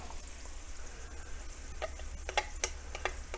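A garlic clove frying in a pan for mushroom pasta, faint soft sizzling with a few sharp ticks and pops scattered through, quiet and close with no talk.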